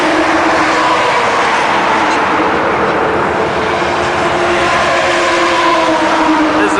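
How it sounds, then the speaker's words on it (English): Heavy truck traffic roaring past on a highway, a continuous loud rush of engine and tire noise that swells and fades as vehicles go by, heard from the roadside. "this is about normal amount of truck traffic going on right now"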